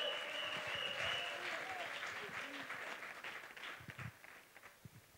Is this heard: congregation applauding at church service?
yes